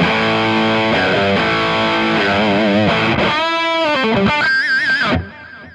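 A heavily distorted electric guitar plays sustained, bending notes drenched in reverb and delay, ending with a ringing echo tail.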